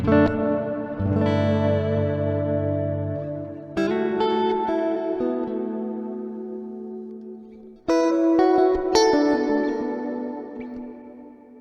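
Sustained guitar chords through a Strymon Cloudburst reverb pedal set to long decay ring out, each strike trailing into a long, slowly fading wash of sound; three separate strums with lingering tails.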